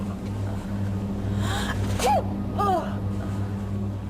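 A single sneeze in a passenger airliner cockpit, with a brief gasping intake and burst over a steady low engine and cabin hum.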